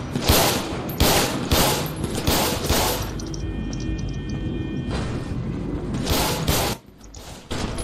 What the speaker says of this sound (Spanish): Mira cómo es una mami y me dispara sin yo dispararle.